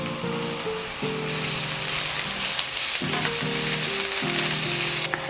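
Ginger garlic paste sizzling steadily in a frying pan, a loud continuous hiss with soft music playing underneath throughout.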